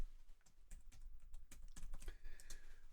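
Fingers tapping out quick, irregular keystrokes on a computer keyboard, close and fairly quiet, in short clustered bursts over a low background hum, with no voices.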